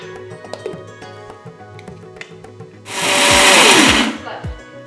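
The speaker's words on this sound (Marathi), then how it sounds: "हे आपण सगळं एकत्र आता वाटून घेणार आहोत मिक्सरवर" A kitchen mixer grinder roars for about a second and a half, grinding a mix of rice, chana dal and urad dal into coarse flour, following quieter tapping and clatter.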